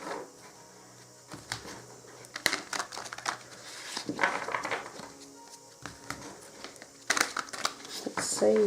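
Tarot cards are shuffled by hand in crisp, papery riffles and crinkles, coming in bursts with pauses between, close and moderately loud.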